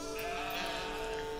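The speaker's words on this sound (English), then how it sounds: "I'm looking for some sheep." Sheep bleating in the video game Farewell North, a soft, faint wavering bleat heard over a steady tonal background of game music or ambience.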